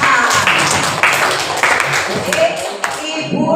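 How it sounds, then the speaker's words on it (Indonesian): A classroom bursts into applause for a student, with many hands clapping loudly and densely together from up close, the sound fading out near the end. "Coba tepuk tangan buat Raihan"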